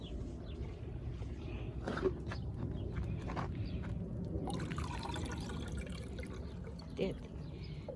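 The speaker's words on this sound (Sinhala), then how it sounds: "වතුර මදි නිසා පිරෙන්න අපි තව ටිකක් දානවා." Water pours steadily into a can, a continuous gurgling splash with a couple of soft knocks and faint voices in the background.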